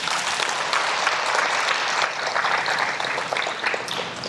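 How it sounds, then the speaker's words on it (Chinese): A lecture audience breaks into applause, a sustained, fairly close burst of many clapping hands lasting several seconds. "鼓掌"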